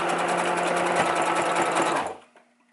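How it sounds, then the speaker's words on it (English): A sewing machine stitches an elastic band in one loud, steady, rapid mechanical run up close that stops abruptly near the end, leaving brief quiet. "Back stitch, forward all the way to the end,"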